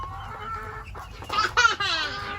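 Chickens in a backyard flock clucking and squawking up close, a few short rising calls clustered near the end over low background rumble, with no voices.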